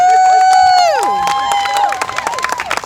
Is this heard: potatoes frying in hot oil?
no